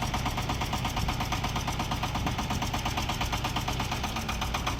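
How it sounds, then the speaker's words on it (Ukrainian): A Shifeng 350L single-cylinder, rear-wheel-drive mini tractor engine runs steadily at idle, a close, continuous low chugging with fast regular pulses and no speech. "Відвантажна тракторця Шифен 350L, тракторець одноциліндровий, задньопривідний, з блокуванням диференціалу."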